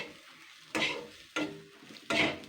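Fish roe is stir-fried in a pan without onion, ginger or garlic. Three distinct scraping stir strokes cut through a quiet sizzle, each stroke a sharp rasp followed by a brief fade.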